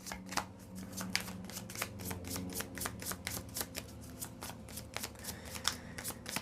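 A Lenormand (baralho cigano) card deck is shuffled by hand, making dense rapid riffling and flicking card sounds that run steadily and close throughout. A faint low hum sits underneath.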